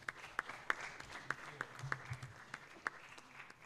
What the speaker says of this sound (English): I think he deserves a louder applause.